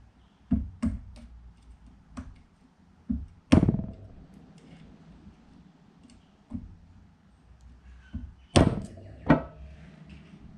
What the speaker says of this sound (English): find a hammer.